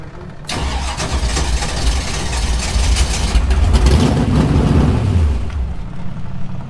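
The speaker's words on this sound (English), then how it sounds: "Let's see if this thing will crank." A Geo Tracker engine cranking and catching at a Fourth of July racing event, starting abruptly, then running loud and close as it builds to a rough rev before easing off.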